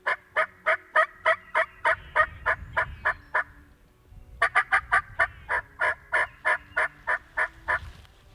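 Wild turkey gobbling repeatedly in two long rapid bursts of sharp, rhythmic calls, loud and fairly close in open farmland near timber, with faint low rumbling beneath.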